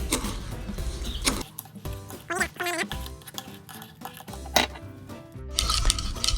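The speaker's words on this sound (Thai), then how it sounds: "แล้วก็คนให้เข้ากันนะครับ" A spoon clinks and scrapes against a container while stirring a homemade root-growth stimulant mixed with energy drink, giving close, irregular metallic taps and rattles with brief pauses.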